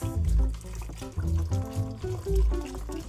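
Vegetable broth poured into a soup pot, a gurgling, glugging stream in uneven bursts heard up close and fairly loud, with no voices.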